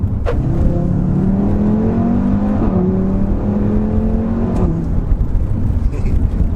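A loud Audi RS3 engine revs up through the gears, pitch climbing and dropping at each shift, with a steady road roar underneath, heard from inside the car.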